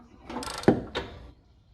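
A ratchet tightens a spark plug on a John Deere ZTrak mower: a few quick, close mechanical clicks and a sharp ratcheting burst, then silence.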